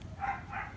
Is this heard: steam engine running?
no